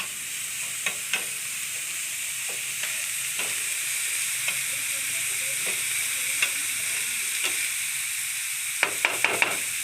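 Egg roll being fried in a pan, a steady sizzle and hiss with occasional sharper crackles and pops, loud and close throughout with no talk.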